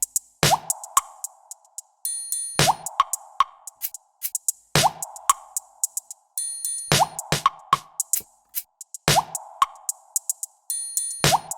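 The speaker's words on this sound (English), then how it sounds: "I'm gonna bring in the drums last, or the kick." A looping electronic beat with a deep thumping kick hitting in a steady pattern, accented by crisp clicks and bright metallic ticks, no voices.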